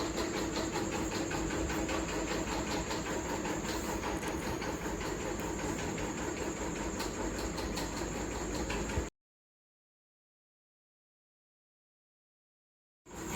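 A sewing machine stitches a folded fabric strip for a Chinese-collar blouse, running as a steady, rapid mechanical whir for about nine seconds. It stops dead into silence, then a brief sound returns at the very end.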